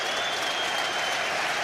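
A large football stadium crowd applauds Joe Cole during a Premier League match between Chelsea and Manchester United, producing a dense, steady roar of clapping that fills the whole moment without a break.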